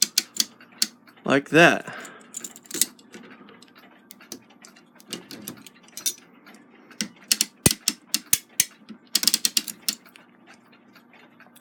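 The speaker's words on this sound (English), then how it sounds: "Switch the ratchet over. And wind the spring down and into the clamp." A clock mainspring for a Takeda short drop octagon clock is wound down with a ratchet winder into a clamp, giving bursts of clicking ratchet ticks in irregular clusters, close and fairly quiet, with someone speaking briefly.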